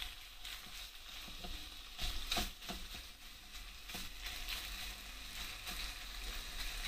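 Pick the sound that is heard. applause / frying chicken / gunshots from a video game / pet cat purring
frying chicken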